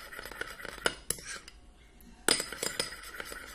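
A spoon clinks against the sides of a small bowl while stirring a rose water skincare mixture, giving a series of light, close metallic taps with a brief pause in the middle.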